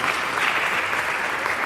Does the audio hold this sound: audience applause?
yes